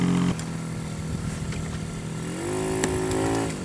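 A 50cc two-stroke quad bike engine buzzing nearby while riding in snow, a steady raspy drone that climbs in pitch as the throttle opens near the end.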